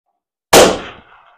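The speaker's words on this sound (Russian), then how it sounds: "выстрелим в гонг." A single .308 Win rifle shot fired at a steel gong cracks out sharply after a moment of silence, then its report decays and rings off over about half a second.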